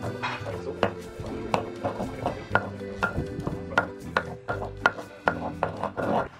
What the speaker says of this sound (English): So first, we put the garlic in here and I'm gonna grind